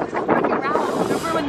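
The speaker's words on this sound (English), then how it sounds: "It's windy too, which is making it worse." Cold wind blowing through Times Square at night, a steady rushing noise close to the microphone for a short moment.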